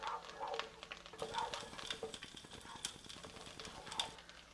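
A garlic clove fries in olive oil in a pan. Soft crackling and quick ticking pops mix with the light scrape of stirring, fairly faint and close.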